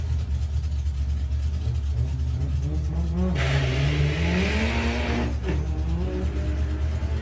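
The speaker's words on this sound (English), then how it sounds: "You can hear the tyres protesting." A Volkswagen drag car's engine roars and revs hard at launch during qualifying at Santa Pod Raceway, with a brief high tyre squeal midway, loud against constant background noise.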